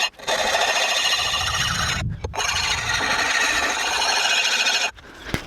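A Lansky puck sharpens the edge of an old garden hoe, making a loud, close, continuous rasping scrape in long strokes broken by two short pauses.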